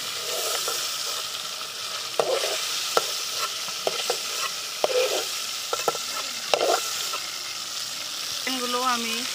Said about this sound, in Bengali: এগুলো আমি ভেজে নেব